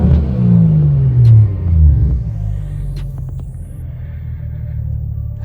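A BMW engine revs up with a pressed gas pedal, a loud deep rising rumble that sweeps up and back down twice, then settles into a steady idle with faint clicks.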